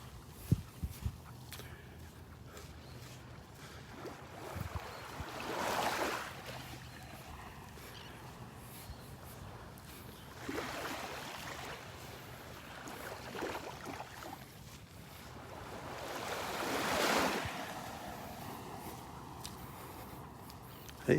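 Small waves washing ashore at Delnor-Wiggins beach in slow swells, rising and falling every few seconds over a constant breezy background hiss.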